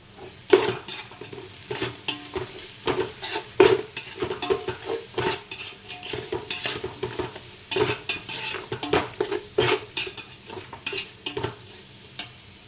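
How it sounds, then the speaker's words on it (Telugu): A spoon stirs chili powder into an egg biryani masala frying in a pot, with repeated metallic scrapes and clinks over a steady sizzle and no talking. "కారం కూడా వేసి ఒక్కసారి కలుపుదాము"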